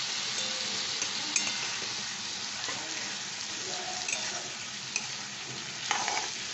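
Chicken curry spices frying and being stirred in a pan, a steady bright sizzle with occasional scraping and clinks of the spoon against the pan.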